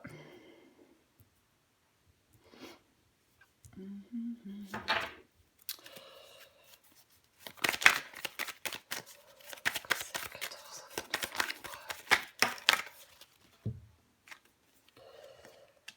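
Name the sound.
handling and drawing tarot cards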